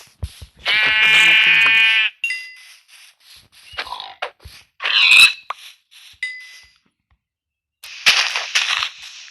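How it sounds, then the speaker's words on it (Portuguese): Sheep in the video game Minecraft bleat in several short, loud, close calls separated by pauses, with brief game clicks and bits of quiet between. "Uma ovelha, uma ovelha."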